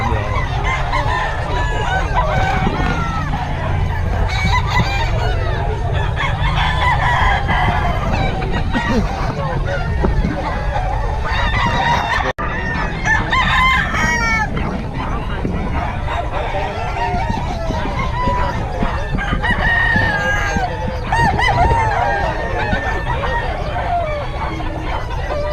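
A crowd of chickens and roosters crows and clucks continuously, dense and loud, with a babble of people talking underneath throughout.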